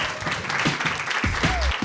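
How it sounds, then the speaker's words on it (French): Studio audience applauding at the close of a live French-language podcast taping about lesbian theatre and drag kings, a steady dense patter of clapping with some low rumble and a brief voice near the end. "On peut l'applaudir aussi."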